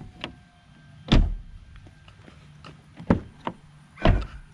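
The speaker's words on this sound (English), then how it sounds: "I want to show you some good door handles that are very easy to open." A 2018 VW GTI SE car door is opened by its handle several times, giving sharp latch clicks and heavy thunks spaced a second or so apart, close and fairly loud, with no talking.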